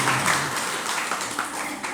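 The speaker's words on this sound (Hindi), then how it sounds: "इसमें ताली अच्छे से नहीं बजाई आप लोग" Audience clapping at a Hindu religious discourse gathering, a brief burst of dense, scattered applause from a crowd that holds steady and then thins slightly.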